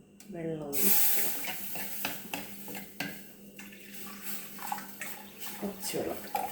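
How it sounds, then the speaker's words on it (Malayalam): Water is poured into a pan of backwater fish curry seasoned with pepper and turmeric. It makes a steady splashing, hissing pour with some clinks of cookware, while a voice talks faintly underneath. "സ്വല്പം വെള്ളം ഒഴിക്കണം,"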